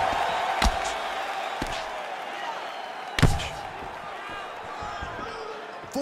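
A UFC fighter slams his opponent onto the mat during a bout, one sharp thud rising over steady crowd noise and commentary, with a few lighter impacts around it.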